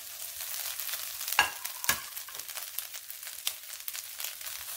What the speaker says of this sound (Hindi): इसके साथ अब हरा प्याज है, इनको हमने इसमें ऐड करके अच्छी तरह फ्राई करना है